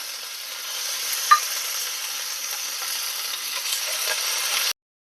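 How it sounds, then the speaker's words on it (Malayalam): Mustard seeds and green chillies sizzle steadily in hot oil, a continuous close, fairly loud frying hiss with one small pop near the start and no talking, cutting off abruptly before the end. "ഇവിടെ ചൂടായിട്ടുണ്ട് നമുക്കതിലേക്ക് ഒരു അര ടീസ്പൂൺ കടുക് ഇട്ട് കൊടുക്കാം പച്ചമുളക് ചേർത്ത് കൊടുക്കാം"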